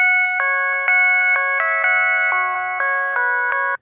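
A synth plays a bright, buzzy chord sequence with no EQ filtering, sharp rhythmic retriggers on each new chord and harsh ringing overtones, loud and alone before it cuts off abruptly.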